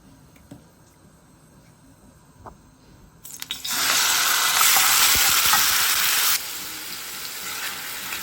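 Small fish hit hot oil and break into a loud, close, sustained sizzle after a few quiet seconds of clinks, then the hiss drops slightly but keeps frying steadily to the end.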